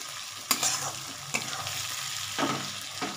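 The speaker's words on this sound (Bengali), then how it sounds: "এটা একটু ভাজা ভাজা হয়ে গেছে, আমি একটু নেড়ে দিচ্ছি" A spatula stirs lote fish frying in a pan, scraping with a few distinct clacks against the metal over a steady close sizzle.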